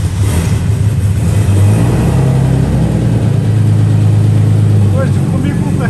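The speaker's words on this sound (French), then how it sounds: "Premier coup de démarrage." A BMW E36 with a turbo engine running on ethanol starts and revs, a loud, steady low engine drone with rising and falling pitch, while voices talk excitedly over it.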